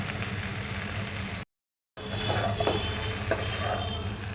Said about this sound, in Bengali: আর 2-3 মিনিট একটু কষে নিয়ে আমি দেখাচ্ছি।